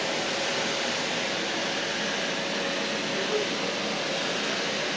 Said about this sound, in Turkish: Evet, ama bu az ses çıkartıyor.